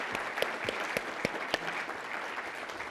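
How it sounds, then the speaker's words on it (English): An audience at a data science conference welcomes the conference staff with sustained applause: a dense patter of hand claps, with a few sharper claps standing out, steady throughout. "can you please rise so that we give you a round of applause?"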